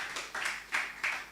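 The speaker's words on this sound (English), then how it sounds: "Can we give them a big round of applause?" Audience applause at a Falling Walls Lab event in Accra, Ghana, with bursts of clapping swelling and fading in a steady rhythm, moderately loud across the room.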